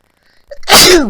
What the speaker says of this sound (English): Excuse me, sneezing there.